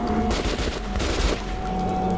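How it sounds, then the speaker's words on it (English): Gunfire rattles in rapid bursts in Metro Last Light Redux, loud and close with a dense rumble of shots and impacts throughout the short stretch. "Just gotta put some shots downrange."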